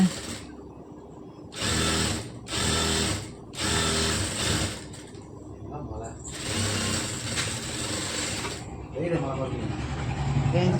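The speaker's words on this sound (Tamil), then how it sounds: "ஸோ நான் இப்போ வந்து மடித்து தைக்கிறேன்" Sewing machine folding and stitching a gown hem, whirring in several loud bursts separated by short pauses, with a voice talking in between and over the later runs.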